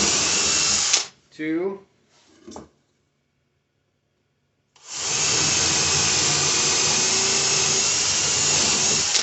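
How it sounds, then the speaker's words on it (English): A power drill bores into an old 2x4 on a workbench for a wooden flag build, a loud steady whine running about a second, then after a short spoken count and a pause, a second long continuous drilling run. "Now I'm drilling these into a old 2x4 right there, so I don't drill into my bench."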